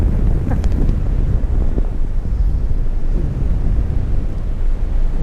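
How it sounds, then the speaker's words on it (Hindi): Strong wind buffets the microphone on the Laxman Jhula suspension bridge in Rishikesh, a constant loud low rumble that lasts the whole stretch, with no talking. "यहाँ पे लग रही है राम झूला से भी तेज हवा।"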